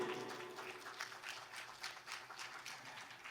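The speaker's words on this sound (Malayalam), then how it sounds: "നല്ലൊരു കയ്യടിയോടുകൂടി" An audience at a stage singing competition in Delhi claps steadily to welcome guests onto the stage. The applause is even and unbroken, heard from a middle distance at moderate level, with no voices over it.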